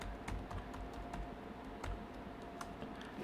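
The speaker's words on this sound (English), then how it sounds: "I'm actually going to type it in." Typing on a computer keyboard gives a quiet, steady patter of light key clicks in a calm indoor room.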